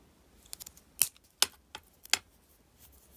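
A few sharp, close snips of fine jewelry wire being cut for wire wrap earrings, scattered small clicks with quiet gaps between them.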